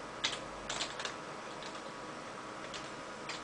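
Faint, sparse keystrokes on a computer keyboard as a command is typed, a few quick clusters of clicks with pauses between them against a quiet room hiss.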